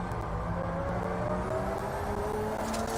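A BAC Mono race car in the Drive Club VR racing game howls along a straight at high revs, its engine note climbing steadily, loud and continuous, with no talking.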